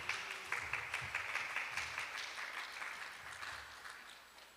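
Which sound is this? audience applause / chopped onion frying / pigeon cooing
audience applause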